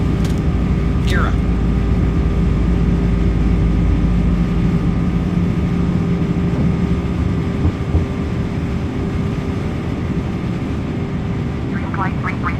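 A McDonnell Douglas MD-11 airliner climbs after takeoff, its engines giving a loud, steady roar with strong low rumble heard from inside the aircraft, while voices speak over it.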